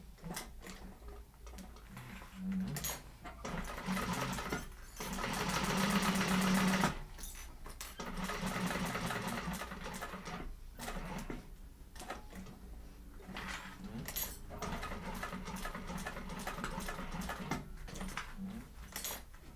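Sewing machine running top stitching in a sewing class, several bursts of fast needle whir separated by pauses, shuffling and handling noises between runs, fairly quiet and close.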